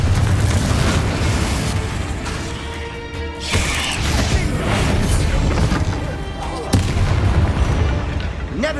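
Confringo spell explosions in a Harry Potter video game: loud booming blasts and crackling bursts over a rumbling, mechanical game soundscape, with a few sharp hits standing out.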